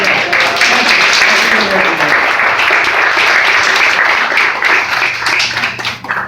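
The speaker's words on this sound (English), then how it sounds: "let's give them a round of applause." A full room of people gives a round of applause at a community event: dense, loud, continuous clapping that holds steady for about six seconds before beginning to thin, with voices murmuring underneath.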